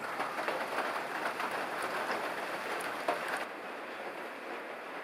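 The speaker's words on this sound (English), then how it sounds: "it's starting to rain" A rain shower falls outside an off-grid log cabin, a steady dense hiss of drops on surfaces that drops slightly in level partway through, with no talking.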